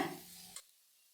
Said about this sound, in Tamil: லோ ஃப்ளேமில் ஒரு வாட்டி எல்லாத்தையும் நல்லா வதக்கி விட்டுருங்க